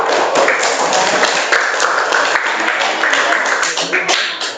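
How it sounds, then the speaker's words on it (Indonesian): A classroom group claps and applauds for group 4, a steady dense patter of many hands close by that carries on throughout before tapering slightly at the end. "Tepuk tangan dulu."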